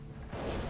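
A ship's cannon fires in the pirate video game Tempest, heard as one short, muffled boom that swells within a fraction of a second.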